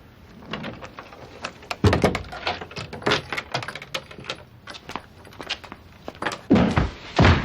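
Police open a door during an arrest, making a run of thuds, knocks, rattles and clattering handling noises that build to louder bangs near the end, with no talking.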